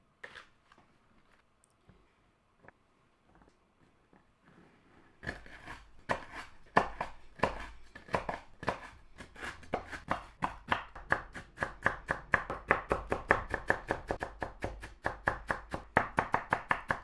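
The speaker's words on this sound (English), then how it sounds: "The next step is chopping a sleeve of Oreo cookies." A knife chops a sleeve of Double Stuf Oreo sandwich cookies on a board. After a few quiet taps, a fast, steady run of crisp, close chopping strikes begins and grows busier, with no talking.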